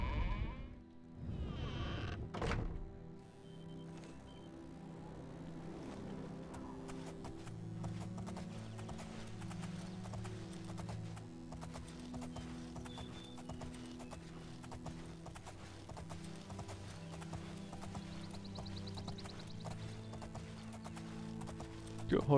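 Horse hooves in The Elder Scrolls IV: Oblivion clip-clopping at a steady pace throughout, with a sharp knock near the start and soft background music underneath.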